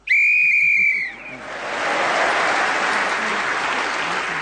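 A loud, sustained whistle blast ends a round of the radio panel game Just A Minute, cutting off after about a second as applause and crowd noise rise and carry on.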